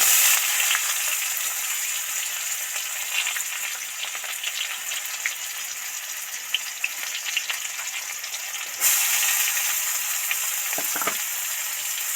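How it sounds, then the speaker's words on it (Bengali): Loud, continuous sizzle of chopped onions frying in hot oil, swelling briefly partway through, with faint stirring sounds and no speech. "এবার পেঁয়াজ কুচিটা তেলের মধ্যে দিয়ে দিচ্ছি"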